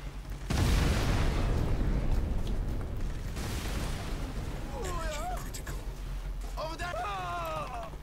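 A barrel explodes in the video game Crysis Warhead with a loud, sustained boom and rumble that stays heavy for several seconds, while someone talks over it.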